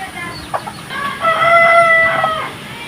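Rhode Island Red chickens crow and cluck nearby: a few short clucks, then a long, drawn-out rooster crow with clear harmonic tones over a soft background hiss.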